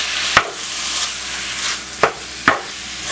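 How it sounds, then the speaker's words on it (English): Ground beef sizzles steadily in a skillet, broken by three distinct scraping clicks as a utensil stirs and breaks up the meat, close and fairly loud, with no talking. "once you got your ground beef into the skillet, and all we do now is just stir it up"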